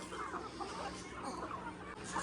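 Chickens cluck softly amid a busy, noisy outdoor backdrop, faint and overlapping rather than distinct.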